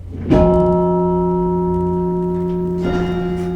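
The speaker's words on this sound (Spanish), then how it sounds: "Era la campana de la iglesia del pueblo, allá abajo, en el valle." A single village church bell strikes and rings out with a long, humming sustain, then is struck again near the end.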